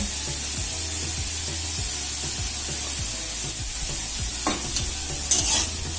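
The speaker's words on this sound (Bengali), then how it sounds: "এখন চার থেকে পাঁচ মিনিট সময় ধরে এভাবে নাড়াচাড়া করে ভাজা ভাজা করে নিতে হবে" Taro pieces seasoned with turmeric and salt are stirred and fried in a pan: a steady hiss of frying under a regular rhythm of spatula strokes scraping the pan, heard up close with no talk.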